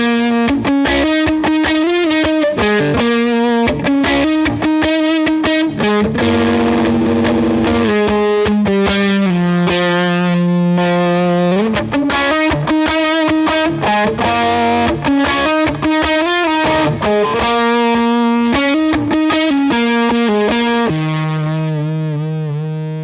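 An electric guitar runs through a Cornerstone fuzz and overdrive pedal with compression set low, playing loud, sustained, distorted chords and melodic lines, close and continuous, ending on a held note.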